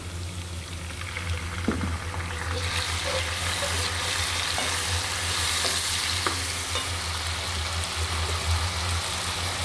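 Onions frying in oil for a Bengali snakehead fish and potato curry, a steady close sizzle with scattered stirring clicks that grows brighter and louder after the first few seconds, alone without any voice.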